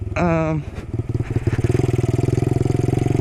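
A small Honda Trail 90 motorcycle engine with knobby tires, riding off-road, idles and putters with a steady pulsing chug, rising briefly at the start, loud and close.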